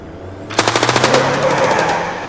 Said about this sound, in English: The sudden screech of tires and the sound of gunshots jolted Dante out of his euphoria